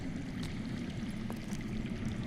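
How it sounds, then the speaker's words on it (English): Underground water flows with a low, steady rushing and faint trickling, continuous and somewhat muffled throughout. "I hear water. From underground."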